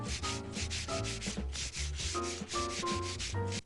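Wood is hand-sanded with 80 grit sandpaper in quick, rhythmic rasping strokes, close and steady, over a tonal musical backing.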